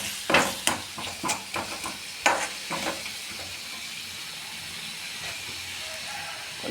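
Cauliflower gobi manchurian with garam masala is stirred in a pan: a run of sharp spatula scrapes and knocks over the first few seconds, then a steady, softer sizzling hiss carries on alone.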